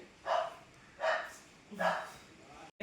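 A dog gives three spaced barks, each short and moderately loud, from nearby in a quiet room, with no talk in between.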